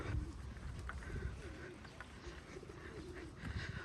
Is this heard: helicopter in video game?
no